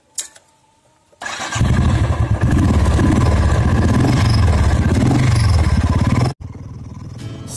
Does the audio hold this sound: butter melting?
no